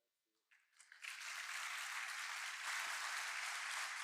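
Applause from an audience at an evening talk on Dante swells in after a faint moment of near silence, rising quickly into a steady, broad wash of many hands clapping that holds to the end.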